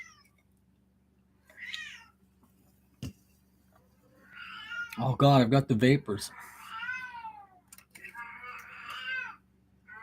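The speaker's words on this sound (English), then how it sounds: "And there will be cats." Cats meowing with a few yowls and a caterwaul-like burst, close by, mixed with someone talking over them and a clock ticking faintly, in the Valor Quest video game.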